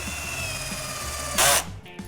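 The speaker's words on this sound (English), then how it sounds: "pre-drill all the holes so everything's consistent and regular." A power drill bores a hole in a 20mm composite beehive box panel, one short loud high whine bursting over background music and hum.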